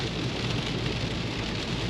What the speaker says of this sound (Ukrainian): Надіємося, що це останній дощ в цьому місяці